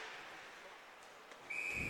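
A single sharp referee's whistle blast near the end of an ice hockey play, cutting through a steady roar of arena crowd noise.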